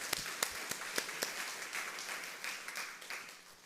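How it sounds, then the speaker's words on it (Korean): Scattered applause from a church congregation during an evening worship service, with sharp individual claps standing out early over a softer, fading patter, moderately distant in a reverberant hall. "우리 하나님께 영광의 박수하겠습니다."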